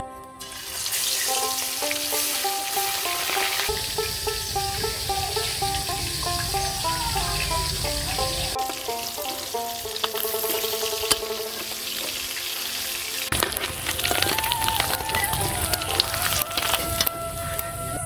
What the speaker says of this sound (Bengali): এখন আমি মাছগুলো ভেজে নেবো, তাই তেল দিয়ে দেবো।